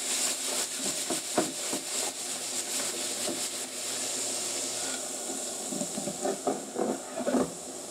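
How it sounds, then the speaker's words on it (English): Apple cider vinegar hits a hot pork belly glaze and releases a strong, continuous steamy hiss, with bursts of crackling sizzle and pan clatter rising and falling throughout. "Now I'm going to add my apple cider vinegar to the glaze. I'm going to let that reduce."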